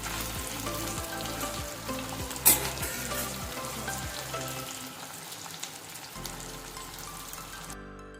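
Stuffed gunda (Kathiyawadi style) frying in a masala-coated pan, stirred gently, giving a steady close sizzle with soft scraping strokes.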